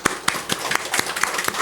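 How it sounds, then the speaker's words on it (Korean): Church congregation clapping during a Sunday worship service, a burst of scattered, uneven hand claps of moderate loudness filling a short moment with no talk over it. "우리 박수를 한번."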